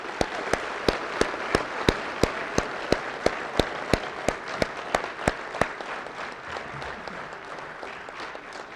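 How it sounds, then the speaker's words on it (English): Applause for veterans at a high school Veterans Day assembly, crowd clapping with a regular loud rhythmic beat of sharp claps that stops after about six seconds while softer clapping trails off. "I just want to give one more round of applause to the veterans that have served our country."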